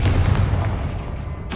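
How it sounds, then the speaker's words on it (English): A Confringo fire-blast spell in Hogwarts Legacy sounds as a dense, rumbling burst that fills the opening, fades into a low roar, and ends in a sharp new crack. "What did that burst of magic do?"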